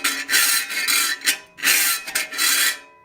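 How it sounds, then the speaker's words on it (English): A metal file rakes over a metal workpiece clamped in a vise, making harsh, loud grinding strokes in an irregular back-and-forth rhythm, about four strokes separated by brief gaps. "I will go ahead and use one of my files on it. And I want you to listen to the noise."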